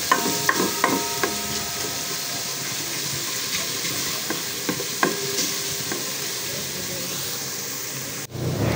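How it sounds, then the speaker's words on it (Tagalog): Garlic fries in a pan with a soft, steady sizzle, punctuated by light metallic taps and scrapes of a spatula, close and moderate in level with no talking. "Hintayin lang po natin na mag-golden brown yung ating bawang."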